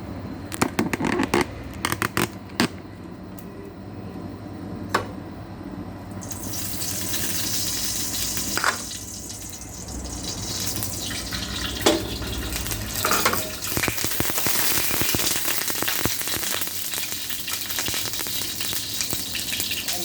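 Minced pork sizzles and fries in a hot pan with holy basil, a steady loud crackle with scraping stir strokes and clatter, most intense in the second half.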